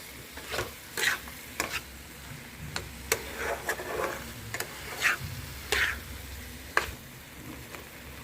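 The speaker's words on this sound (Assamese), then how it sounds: "এতিয়া এইখিনি অকণমান মানে ফ্লেভাৰটো মটৰ আৰু আলুলৈ যাবৰ কাৰণে অলপ সময় এনেকৈ ভাজি থাকিম।" Boiled peas and potatoes stir-fried with spices in a pan for matar paneer, giving a steady low sizzle broken by repeated scraping and clinking stir strokes, close and moderately loud with no talking.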